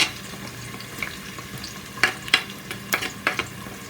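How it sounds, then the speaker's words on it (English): Chopped onions and garlic sizzle softly in hot oil, a steady crackling hiss broken by a few sharp scraping strokes of stirring. "I can hear it sizzling."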